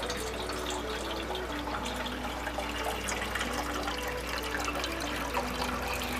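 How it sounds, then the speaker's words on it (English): City tap water is poured lightly through compost, giving a steady, continuous trickle and splash lasting several seconds over a low hum, with no talk. "I'm kind of lightly pouring it through."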